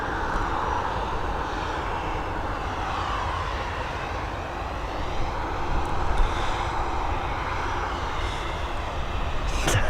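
Loud, continuous roar of an aircraft engine at Dublin Airport, a steady broadband drone that swells slightly toward the end, with no talking.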